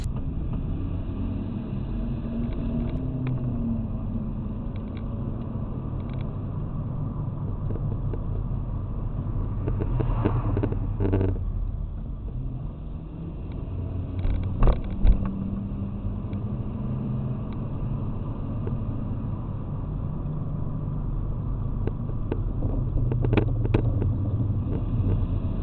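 A pickup truck rolling coal rumbles ahead on the road, a steady low engine drone heard from a following vehicle, with a couple of short louder surges partway through.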